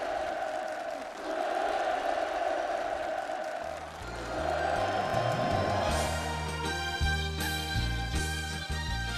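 A crowd claps and cheers warmly at a housing handover ceremony in North Korea, fading into music with steady instrumental rhythm and rising melody as the applause recedes.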